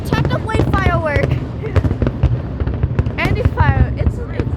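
Fireworks burst in a rapid string of loud crackling pops, with whistling rockets rising between the bangs and excited children's voices mixed in.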